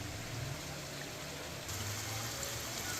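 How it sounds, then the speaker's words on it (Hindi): Water streams steadily into a cooking pot of nihari-style chicken gravy base, a soft continuous pouring hiss that holds for a few seconds alone, without talk. "अब हम इसके अंदर शामिल कर देंगे पानी।"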